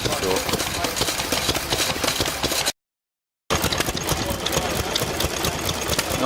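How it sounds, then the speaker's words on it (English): At a stationary engine rally, a short power hacksaw runs with a rapid, busy mechanical chatter and a knocking engine, steady and fairly loud, broken by a brief gap of silence. "Short power hacksaw."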